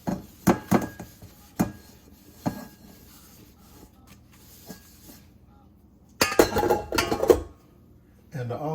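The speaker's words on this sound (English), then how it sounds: "I'm going to also clean the bowl out" A mixing bowl being cleaned out while making a pineapple upside-down cake, with scattered knocks and clatters of utensils against the bowl, then a louder burst of clinking and scraping near the end, close by.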